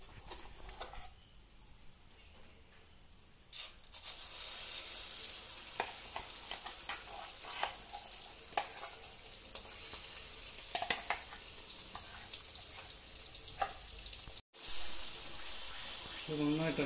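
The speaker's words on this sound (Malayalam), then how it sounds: "എണ്ണ ഒന്ന് ചൂടായി വരുമ്പോഴേ നമുക്ക് അരച്ച് വെച്ച അരപ്പൊക്കെ ഇട്ട് നന്നായിട്ടൊന്ന് ഒന്ന് മൂപ്പിച്ചെടുക്കണം" Ground spice paste frying in hot oil for a chicken roast, a faint steady sizzle with intermittent stirring scrapes and clatter, a brief dropout near the end.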